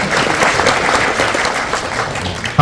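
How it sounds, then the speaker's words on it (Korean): Loud, dense clapping from an audience at a company's 40th anniversary award ceremony, close and sustained throughout with no pause. "박수 주십시오"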